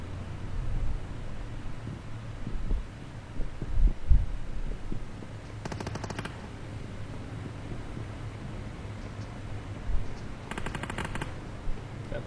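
Bursts of automatic gunfire in a shooting video game, two short rattling volleys standing out over a steady low hum and scattered thuds, with no talking.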